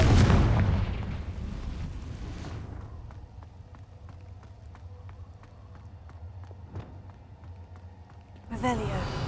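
A Confringo blasting spell in Hogwarts Legacy erupts as a heavy boom at the start and fades into a long rumbling tail, followed by quieter footsteps and a voice near the end.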